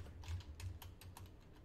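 Soft computer keyboard keys tapped for Sims 4 camera and wall controls, several quick light clicks in a loose rhythm, close but faint.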